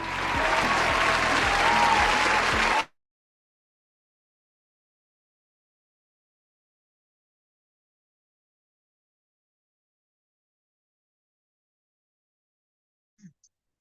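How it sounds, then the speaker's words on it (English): Audience applause at a Teacher's Day summit greeting a speaker: a short, dense burst of clapping that cuts off abruptly into long silence, with only a faint tiny sound near the end. "With a resounding applause and a digital ovation, please make welcome Andy Henry to the TTT Summit 2024."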